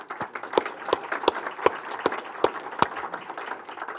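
Scattered applause follows a thank-you to the MC at an Auckland public forum on managing growth. It is thin and fairly quiet, with individual claps standing out in an uneven rhythm.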